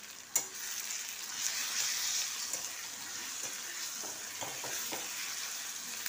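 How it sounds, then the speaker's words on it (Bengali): Ginger and garlic sizzle and fry in a pan with softened tomato and onion, a steady, fairly quiet crackle with a few stirring clicks throughout. "টমেটোটা আর পেঁয়াজটা নরম হয়ে গেছে, এবার এতে আমি আদা আর রসুনটা তুলে দিলাম।"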